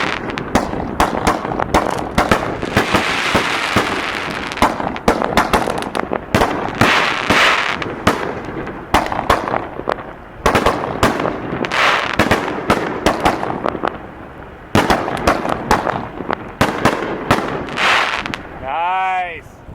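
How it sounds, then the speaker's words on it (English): A 25-canister Calavera XL consumer firework barrage goes off in Las Vegas: a rapid, loud succession of booming aerial bursts and crackles with brief gaps, with a whistling rise near the end and excited voices in the mix. "Here we go, 25 Calavera XL canisters."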